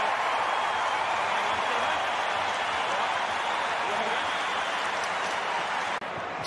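Loud, sustained roar of an AFL stadium crowd cheering through a Crows v Suns match in Adelaide, a dense wall of voices holding steady throughout before dipping briefly near the end.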